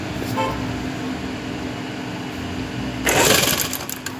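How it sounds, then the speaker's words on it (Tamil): An electric sewing machine stitches fabric in a continuous steady whir that grows louder and busier in the last second, with no talk over it. "இது மேலே அப்படி வச்சு தையல் போட்டுக்கணும்"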